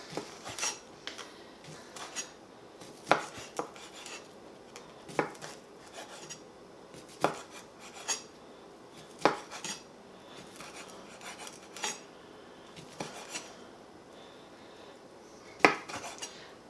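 Knife slicing andouille sausage on a cutting board: a series of sharp, separate clicks and taps at an irregular pace, fairly close, with a faint rustle between cuts and no talking.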